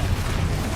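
A Bombarda spell explosion in the Hogwarts Legacy video game, a brief low booming burst that rumbles loudly and steadily without speech.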